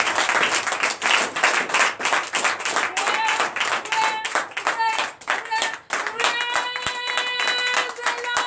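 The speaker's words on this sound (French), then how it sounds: "je vous invite, frères et sœurs, à donner une vive acclamation à l'Éternel" A church congregation at a Sunday worship service in Comè, Benin, clapping hands loudly and rhythmically, with voices joining in acclaim and singing that swells toward the end.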